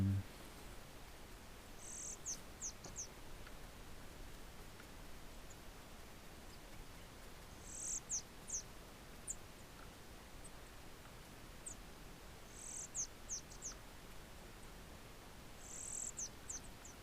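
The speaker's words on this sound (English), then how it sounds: "if I can get close enough to this to the source, to the point source of the bird sound" Faint bird calls in the video game Red Desert Render, short clusters of high chirps recurring every few seconds over a steady airy hiss, with no one talking.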